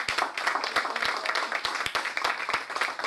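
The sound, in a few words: congregation applauding for Christ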